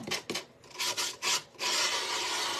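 Painted wood being sanded by hand to give it a distressed look, heard as close, loud rasping rubbing strokes in a rough back-and-forth rhythm, ending in one longer continuous scrub, with no talking.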